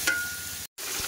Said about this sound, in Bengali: ভালোভাবে কষাই করবো